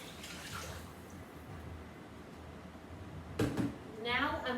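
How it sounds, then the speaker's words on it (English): Water pours into a pot with bouillon and a bay leaf in a home kitchen, a short splashing burst near the end after quiet room noise, followed by a faint bubbling trickle. "So in goes the water."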